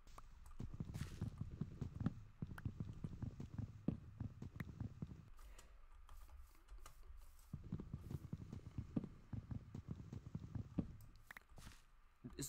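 Hooves clip-clopping from a Minecraft horse, a quiet run of soft, regular footfalls in a game setting that pauses briefly midway and then resumes at a steady walking pace.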